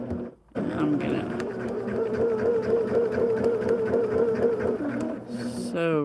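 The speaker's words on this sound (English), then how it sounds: "sew right to there. I'll back stitches so it doesn't come loose." A sewing machine runs steadily, stitching fabric with a whirring motor hum for several seconds, then slows into a brief reverse run for back stitches near the end.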